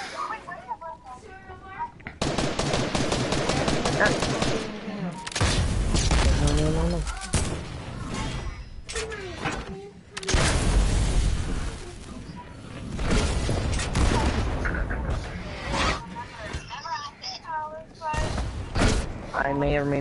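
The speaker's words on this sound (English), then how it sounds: "It launches the cannons all the way back." Cannons fire repeatedly in a Fortnite season 8 pirate-ship match, sharp booms and thuds scattered through a busy stretch of excited gameplay talk.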